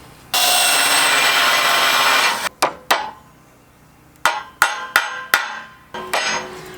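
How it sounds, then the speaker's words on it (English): Hammer tapping carriage bolts into angle iron on a vintage utility trailer: a long steady rushing noise opens, then sharp metallic taps follow, first a pair and then a quick run of four or five ringing strikes. "So tapping in carriage bolts helps it to seat."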